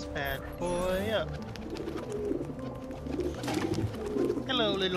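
Pigeon cooing in the video game Assassin's Creed 2, soft repeated coos heard under a man's speech, with his voice also playfully imitating the cooing.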